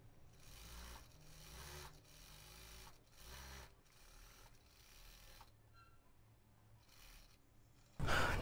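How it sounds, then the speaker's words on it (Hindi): A sewing machine stitches lace onto a dupatta in several short runs of rapid, quiet mechanical whirring, separated by brief pauses, with a louder rustle at the very end. "इस तरीके से लेस रख के ना हम सिलाई लगा लेंगे"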